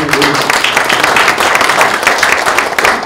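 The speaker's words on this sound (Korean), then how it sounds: "하나님께 큰 박수로 영광을 돌립시다." Brief burst of enthusiastic applause from a crowd at a Korean commemorative gathering, many hands clapping densely and loudly for a few seconds.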